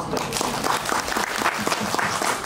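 Audience members clap steadily in a hall during a film Q&A event for the Korean movie Killing Romance, with individual hand claps standing out in a short, even burst.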